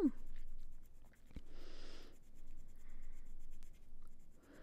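A cream-colored pencil presses hard on paper during adult coloring, giving short scratchy strokes in bursts separated by quiet gaps, close and fairly soft.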